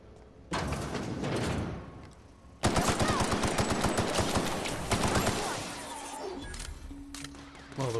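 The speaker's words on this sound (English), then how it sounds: "the recoil on that gun's a bit mad, isn't it?" Automatic gunfire from a weapon in the video game The Outer Worlds, with dense rapid bursts that begin sharply and carry loud through most of the stretch, mixed with other game effects.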